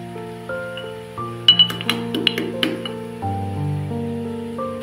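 Fried gram flour sev noodles being lightly crushed in a dish for dhaba-style sev bhaji, a short burst of crisp clinking and crackling taps over a steady background music bed.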